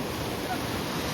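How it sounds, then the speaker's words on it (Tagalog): Steady roaring wash of strong ocean surf on the Ilocos Norte coast, broad rushing noise, continuous and fairly loud, with no distinct breaks. "Malakas alon oh."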